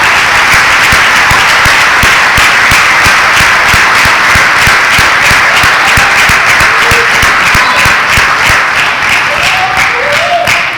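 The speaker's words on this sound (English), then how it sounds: "Let's give all of our seniors a big round of applause." Loud, sustained applause from a large audience at a university athletics awards ceremony honoring seniors, dense continuous clapping filling the room throughout with no break.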